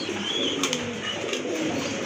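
Pigeons in a breeder's loft coo in a steady, low murmuring rumble that runs throughout, with no talking.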